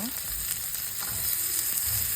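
Paneer masala fries in a pan with a steady, close sizzle and soft crackle, with a few faint bumps underneath and no voices.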